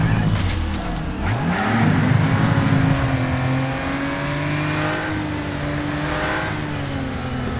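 Car engine in a racing video game revving and accelerating steadily, a loud continuous drone with rising pitch sweeps, with no talk over it.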